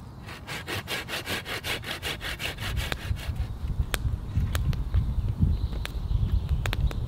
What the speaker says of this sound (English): We just need to trim these ends off a touch